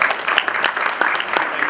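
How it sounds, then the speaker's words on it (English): An audience at a green campus sustainability keynote applauds, a short burst of brisk, fairly close clapping that holds steady throughout. "So give him a round of applause."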